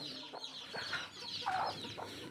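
A hen with newly hatched chicks clucks at a home poultry setup, with soft, high peeping scattered through a short, steady stretch of close farmyard sound.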